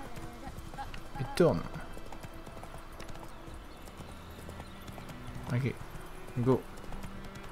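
Rhythmic hoof clip-clop of a horse galloping in The Witcher 3: Wild Hunt, with a few louder hoof bursts standing out over a steady game background while someone talks over it.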